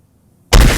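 A single loud, sharp blast bursts in after half a second of near silence, staying dense and noisy to the end.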